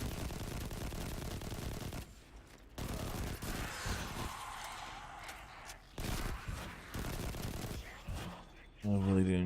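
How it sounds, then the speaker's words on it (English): Sustained gunfire while fighting Fallen enemies in the video game Destiny 2, with dense bursts of shots that break off in short gaps and resume, and a rapid rattling volley at the end. "I really do enjoy shooting Fallen."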